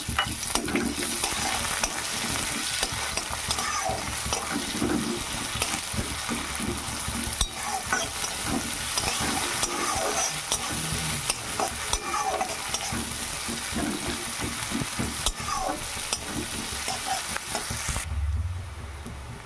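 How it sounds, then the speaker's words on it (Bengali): Two small chopped onions sizzle and crackle steadily in a little oil in a pan, with frequent stirring scrapes throughout; the sizzle drops away in the final second. "এবার দিয়ে দেবো কুচি করা পেঁয়াজ"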